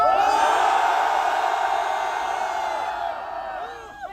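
A large crowd of students at a Seoul National University candlelight protest rally lets out a sustained roaring shout, loud and unbroken for about three seconds before tapering off, with scattered higher voices fading at the end.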